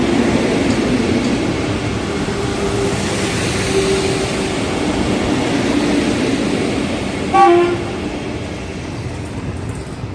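A passenger train running from Erode to Palakkad rumbles steadily along the track, a loud continuous rolling roar with a short horn-like tonal blast near the end.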